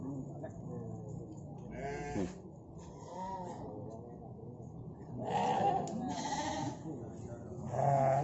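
Rams bleat at a livestock market where breeding sheep are sold, with several loud, wavering calls rising over steady crowd murmur and talk in the background.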